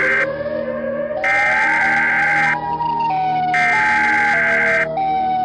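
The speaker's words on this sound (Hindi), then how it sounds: "और तभी उन्हें सायरन की आवाज़ सुनाई देती है" A loud electronic siren wails nearby, its pitch stepping up and down in a repeating pattern with bursts of harsher tone layered over it.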